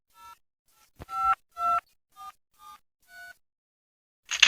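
Phone keypad tones from the Mr Meat video game as a call is dialed to the police: a series of short, clean beeps, about six separate presses with pauses between them, then a brief buzzy burst at the end, with no talking.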